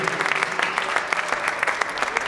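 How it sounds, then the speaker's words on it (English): A crowd at a Hanukkah event applauding steadily, brisk overlapping claps at a moderate distance with no pauses. "give these young men a round of applause"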